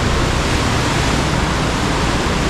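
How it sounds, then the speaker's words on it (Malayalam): A forceful meltwater river near Kargil in Ladakh roars past close by, a loud, unbroken broadband rush of churning water that stays steady throughout with no speech. "വെള്ളത്തിൻ്റെ ഒരു ഫോഴ്സ് നോക്കി,"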